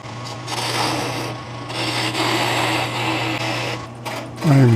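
A wood lathe turns a tenon on the bottom of a wet spalted alder bowl, giving a steady motor hum with continuous scraping from the cutting tool. Brief gaps fall in the cutting, and the machine's pitch shifts near the end.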